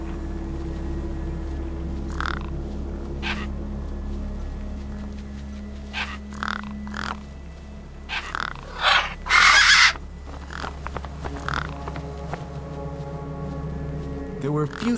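Crows caw in bursts in the video game Beyond a Steel Sky, with a few loud, harsh calls clustered near the middle over a low ambient hum, alongside scattered fainter bird sounds.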